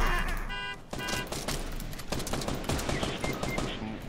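Gunfire in Fortnite Battle Royale comes as rapid, close bursts of automatic shots, loud and sustained across the clip, with a brief tonal alert near the start.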